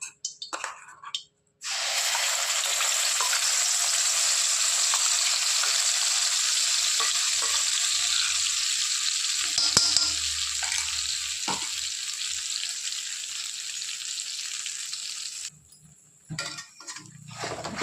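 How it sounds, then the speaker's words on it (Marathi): Spice masala sautéing in hot oil for a fasting dum aloo, a loud, bright, continuous hiss that runs for most of the stretch with a few stirring knocks, starting and ending abruptly amid quieter kitchen sounds. "आता ह्याच तेलामध्ये आपल्याला मसाला परतून घ्यायचा आहे"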